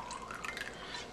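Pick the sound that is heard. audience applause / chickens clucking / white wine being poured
white wine being poured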